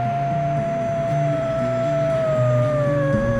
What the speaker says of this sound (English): Okay, so don't die to the wolves.